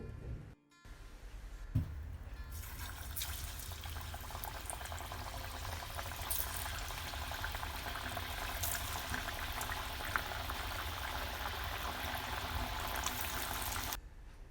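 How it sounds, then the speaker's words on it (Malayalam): Coconut oil being poured into a pan for frying pathiri, a steady liquid pour and bubbling wash that runs continuously for most of the stretch, fairly close and even, with no talk over it. "ഞാനിപ്പോൾ ഇവിടെ വെളിച്ചെണ്ണയാണ് ഒഴിച്ചു കൊടുത്തിട്ടുള്ളത്"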